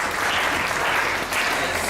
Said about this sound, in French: Si c'est bon, applaudissez pour moi.